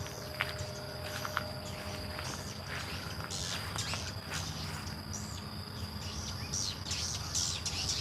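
Dense chirping of many small birds over a steady outdoor hum, calls overlapping continuously at moderate distance with a few louder sharp tweets.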